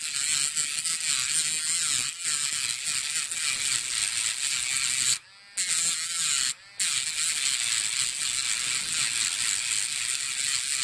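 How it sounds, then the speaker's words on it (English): A cordless Dremel 7300 spins a large cutting disc with a steady, high, buzzing whine and a rattly edge. The sound cuts out briefly twice before running on, close up and without speech. "Seems like it takes more energy to spin the big disc wheel."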